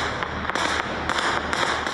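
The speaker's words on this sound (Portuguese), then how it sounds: "Os talibãs comemoraram com tiros para o alto." Taliban fighters fire celebratory gunshots into the air, a rapid irregular series of sharp cracks, some clustered together, heard at moderate distance over a steady background hiss.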